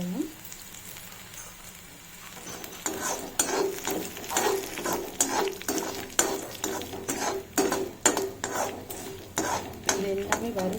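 Skin-on garlic, roasted gram and peanuts being stirred and roasted in a pan for a puffed rice snack, a steady dry rattling and scraping with soft sizzling, close and continuous, growing busier after the first couple of seconds.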